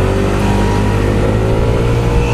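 CVT automatic scooter with an upgraded 20% variator setup revving hard and close, a loud continuous engine drone rising steadily in pitch with no talking.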